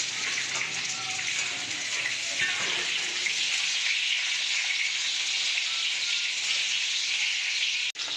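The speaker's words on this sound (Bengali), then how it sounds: "আলুগুলো ভেজে নেব" Potatoes frying in a home kitchen give a steady, close, bright sizzling hiss that runs unbroken with no pauses, with a brief dropout just before the end.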